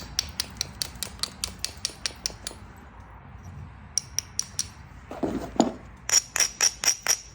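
Georgia jasper being beveled by flint-knapping: sharp, glassy clicks of stone striking stone in quick regular runs, close and clear, with a rougher scraping burst midway before another series of crisp taps.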